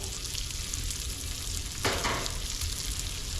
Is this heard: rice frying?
yes